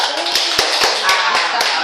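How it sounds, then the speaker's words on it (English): A classroom gives applause in a micro-teaching lesson, a short burst of sharp hand claps at an uneven rhythm, close and moderately loud. "Give applause to Rika."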